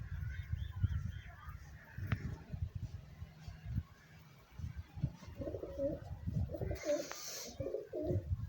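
Pigeons cooing on an open rooftop, soft repeated coos and murmurs close by with scattered wing flutters and a brief louder burst near the end.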